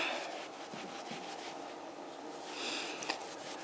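A cloth rubs and polishes an aluminum bicycle down tube with a soft, continuous scrubbing hiss, back and forth, close and fairly quiet, swelling slightly near the end with a small tap.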